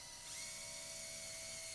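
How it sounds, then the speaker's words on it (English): Power drill driving number 10 screws into a wooden display, a high whining motor spin-up that settles into a steady close whir, continuous and alone. "Use the power drill and attach the 3 legs to the top and bottom."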